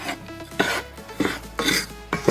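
Tricolor quinoa is tossed into a chili pot, giving four short rustling, clattering pours close up, each under a second and separated by brief pauses, with no talking.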